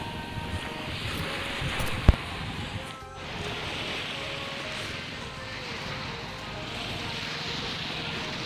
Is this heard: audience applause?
no